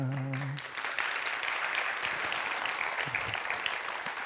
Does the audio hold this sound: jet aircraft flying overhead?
no